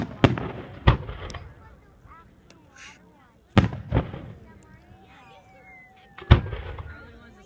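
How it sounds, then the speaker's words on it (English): Fireworks burst in sharp, booming pairs with echoing tails, three volleys spaced a few seconds apart, with people talking faintly between them. "Oh, these damn fireworks."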